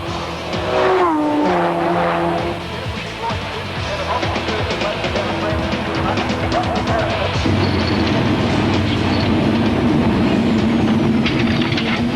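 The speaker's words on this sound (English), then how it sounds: "the fight for 4th, 5th and 6th was a doozy between the BMW M3R of Morris and the Mazda RX-7s of Waldron and Bosenjack." A BMW M3R and Mazda RX-7s race hard at Symmons Plains in a 1995 Australian GT Production Car round, their loud engines roaring and changing pitch through gear shifts, with a rising, sustained wail as the cars pass close by.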